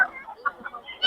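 Chickens at a Bocaue poultry market give short, scattered clucks over about a second, close by and moderately loud, with faint background murmur.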